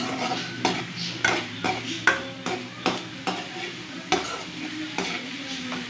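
Ingredients sautéed in a pan for prawn biryani, a rhythmic series of spatula scrapes and knocks roughly every half second over a constant low sizzle, close by.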